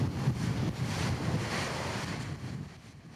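Lava fountains roaring during Kīlauea's volcanic eruption, a dense, loud, continuous rumbling roar like heavy surf or wind, steady and then easing slightly, with no talking.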